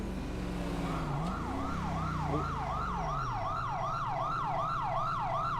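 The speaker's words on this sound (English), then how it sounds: "There's the ambulance's sirens. That's county EMS." A county EMS ambulance siren in the game GTA 5 wails in steady, repeating rising-and-falling sweeps, loud and continuous throughout, with a low engine rumble underneath.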